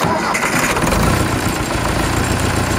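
An old Ford tractor engine rumbles loudly and roughly at close range, chugging steadily without a break as it warms up.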